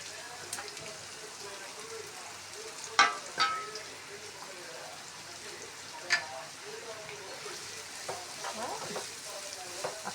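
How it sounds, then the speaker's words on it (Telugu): Finely chopped onions go into hot oil and sizzle steadily in a pan, a soft continuous frying hiss broken by a few sharp clicks and knocks of stirring near the middle. "ఆయిల్ వేడెక్కిందాక ఉల్లిపాయలు సన్నంగా తరిగి పెట్టుకొని మొత్తం వేసేసుకోవాలి"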